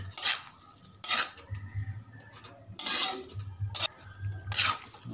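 Metal utensil scraping and clanking against a pan while buko pancit canton with shrimp and chicken is stirred, several bursts of stirring at close range with quieter gaps between them.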